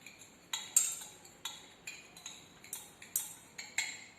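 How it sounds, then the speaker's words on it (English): A spoon stirring a solution in a container, making a regular series of light clinks against the glass, about two per second, close and fairly quiet with no talking. "continuously stir it. And you can see that we are getting a solution."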